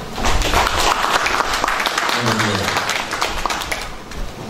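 A seminar audience gives sustained applause, a dense wash of clapping running the whole length with a faint voice mixed underneath.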